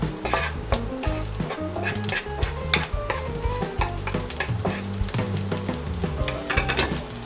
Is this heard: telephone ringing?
no